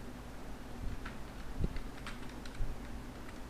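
Keys tapped on a computer keyboard while data is entered into an MS Word document, a loose run of soft, irregular clicks with a few louder strokes, close by and with no talking.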